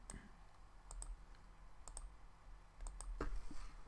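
A computer mouse clicks a handful of times while building a coaching website in Builderall, sharp short clicks spaced irregularly against a quiet room.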